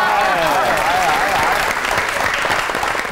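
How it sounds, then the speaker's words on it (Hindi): An audience at a poetry and comedy show claps loudly and continuously, a thick, close wall of applause with some voices audible underneath. "इसको शर्मिंदा करो, बजाओ ताली।"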